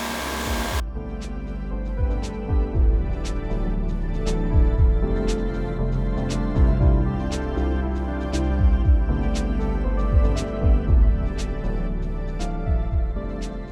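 A welder works on tabs and tubes for an E Ride Pro SS rear subframe upgrade, with a steady electric hum and a run of sharp, evenly spaced ticks or zaps under it, close by and without talk.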